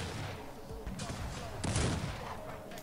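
Musket volleys from dragoon cavalry in the real-time strategy game Cossacks 3 crack out in a couple of sharp bursts over a busy battle din, with a commentator talking throughout.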